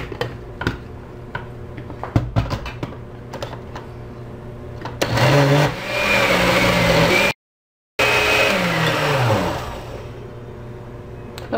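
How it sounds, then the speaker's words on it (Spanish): A kitchen blender running mango drink mix with sugar and water, starting after some clicks and handling, whirring loudly in two bursts with a short gap and shifting motor pitch. "Y lo vamos a licuar."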